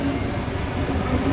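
A train departing platform 2 at Asquith station on the main Northern line, a steady dense rumble of wheels and motors, loud and continuous.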